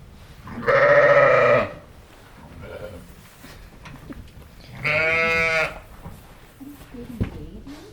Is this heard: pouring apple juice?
no